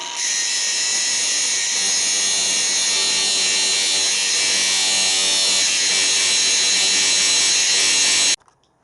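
A homemade grinder sharpens tungsten welding electrodes with a loud, steady high-pitched whine that holds constant for about eight seconds and then cuts off abruptly, with no talking.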